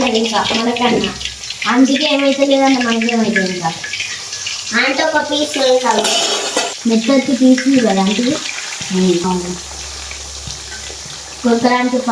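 Chicken pickle pieces frying in oil in a pan are stirred now and then, giving a steady sizzle and scraping beneath near-continuous talking.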